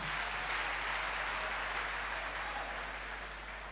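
Steady congregational clapping fills a church for the whole stretch, a dense even wash of many hands that eases slightly toward the end, with no talk over it.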